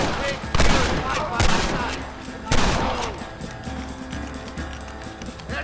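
Several bursts of gunfire crack out in a Red Dead Redemption 2 shootout, loud shots landing at irregular intervals over a steady din of combat noise and scattered shouting.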